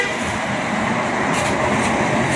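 A tour coach carrying a group of pesantren students idles nearby outside a bus agency depot in Surabaya, giving off a steady, loud diesel rumble with broadband roar that runs evenly throughout.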